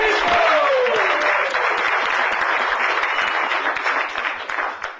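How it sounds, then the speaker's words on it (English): A comedy club audience applauds a comedian with a full, loud round of clapping, a faint voice briefly audible at the start before the clapping thins out near the end. "A big round of applause for Chico, ladies and gentlemen."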